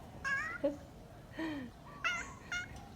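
A hungry house cat meows several times, close and clear, in short rising-and-falling calls spaced about half a second to a second apart.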